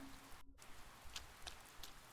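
Rain ambience from the game Persona 4, a steady soft hiss of falling rain with faint droplet ticks, continuous and fairly quiet, with a brief dropout partway through.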